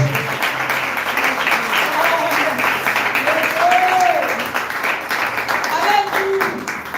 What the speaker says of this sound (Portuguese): Pode aplaudir ao Senhor pela voz de Deus.